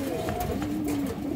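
Pair of female pigeons with hoarse throats, kept caged, coo in low, steady rolling murmurs, close and continuous throughout with faint background voice.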